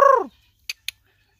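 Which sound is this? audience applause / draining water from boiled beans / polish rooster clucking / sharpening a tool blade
polish rooster clucking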